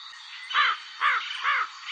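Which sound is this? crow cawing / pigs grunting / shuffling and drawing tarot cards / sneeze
crow cawing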